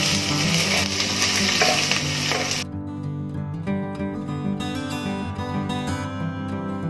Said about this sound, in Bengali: তো দেখো এগুলো একটু ফ্রাই হয়ে গেছে